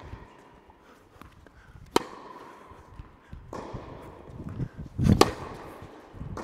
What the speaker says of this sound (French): Très bon bruit là, à l'impact sur frappe à plat.